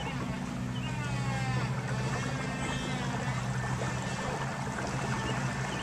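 A fishing boat engine drones steadily while shifting into high gear on the water, a constant low hum with layered harmonic tones beneath splashing hull noise, fairly close and unbroken, with no talk.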